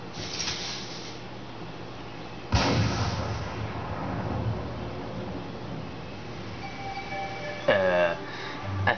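Gunshots in the Kingdom Hearts video game, two sharp booming cracks a few seconds apart, loud and close, followed by electronic game tones while a voice talks quietly in the background.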